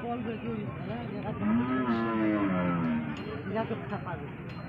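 A Sahiwal cow at a busy cattle market gives a long, loud moo near at hand, with people chattering in the background.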